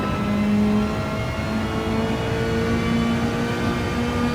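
Mazda Atenza Gr.4 race car in Gran Turismo 7 at the Nurburgring GP, engine droning steadily under acceleration with a sustained even whine, loud and continuous throughout, no voices.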